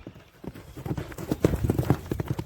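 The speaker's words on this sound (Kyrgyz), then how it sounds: "Тез ат экен, тез ат." Hooves of a fast horse used for ulak (kok-boru) in Kara-Kulja, Kyrgyzstan, clip-clop in a quick, uneven rhythm, growing louder as the horse nears, with no talk over them.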